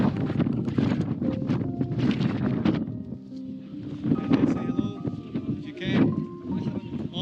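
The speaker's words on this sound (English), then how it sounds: "There's a lot of wind through these rock formations." Gusty wind blows through rock formations outdoors, buffeting the microphone with a rough, fluctuating rumble under a person talking nearby.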